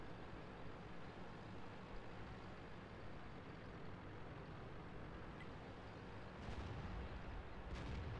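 Tank gun fire in the World of Tanks video game comes as a deep, booming report over a continuous low engine rumble, fairly faint overall, with a second softer thud shortly after and no voices.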